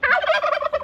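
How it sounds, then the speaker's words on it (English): Turkey hens gobbling and clucking in a quick, busy run of calls, close by and fairly loud, with no talking. "the hens, the turkey hens,"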